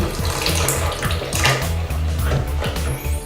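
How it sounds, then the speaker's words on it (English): Milk pours steadily into a bowl for pancake batter with a continuous splashing gurgle, close and fairly loud. "You pour more milk."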